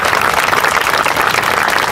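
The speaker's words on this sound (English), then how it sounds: "Please give them a huge round of applause." An outdoor crowd at the opening of the Eastside Gateway Trail applauds council members, a loud, dense and continuous wash of clapping with no talk.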